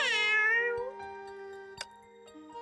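Cat meowing in the video game Honkai Impact 3rd: one long, clear, drawn-out meow at the start, then quiet game ambience with a couple of faint clicks.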